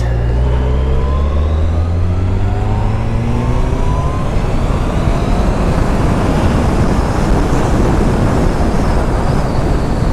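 A 2013 Yamaha FJR1300 motorcycle's engine revs loudly and close, its pitch climbing steadily through acceleration before settling into a sustained roar mixed with rushing wind.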